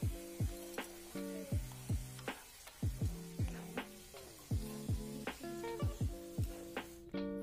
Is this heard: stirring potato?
yes